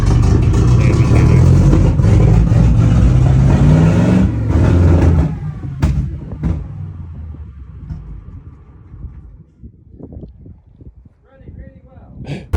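An Alvis Stalwart engine runs loudly for about five seconds in freezing cold, then drops to a rougher, quieter idle with a few sharp revs and knocks, as if the choke is being adjusted.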